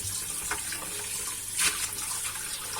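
Anchovies dredged in corn flour are rinsed under a running kitchen tap. A steady splash of water carries on throughout, with occasional sloshes from handling the fish.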